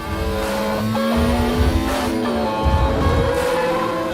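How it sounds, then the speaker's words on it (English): Formula 1 race car engines roar in a sustained, high-pitched whine that holds steady and loud throughout, with no voices. "The sound of those engines roaring on the big screen"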